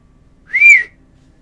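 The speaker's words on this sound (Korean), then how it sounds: "딸을 보며 휘파람을 불었습니다" A man whistles a single short note, clear and close, rising slightly then falling, lasting under half a second against near silence.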